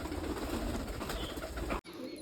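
Pigeons in a loft cooing and murmuring close by, a steady low burble that runs without pause until a brief cut just before the end.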